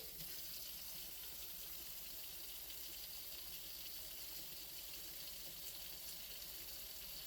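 Tap water runs steadily while a cleaver made from a rasp is rinsed and brushed clean, a faint, continuous splashing hiss with no talk.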